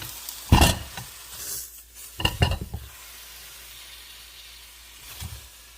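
Beef chuck browning in a pan, with bursts of sizzle and stirring scrapes, loud near the start and again mid-clip, then a quieter steady fry with one last stir near the end.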